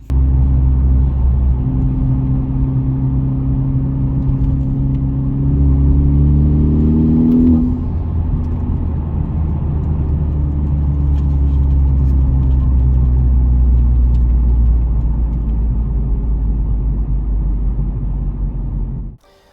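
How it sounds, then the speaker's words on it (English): A car engine hums steadily, revs up with a rising whine around the middle, then settles into a smooth driving drone, loud and close. "It does detect the revs. So let's go for a drive actually."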